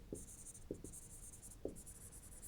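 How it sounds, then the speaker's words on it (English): Marker or chalk strokes on a classroom board, a few short faint scratches spaced out against a quiet room hiss. "Let me write in the board"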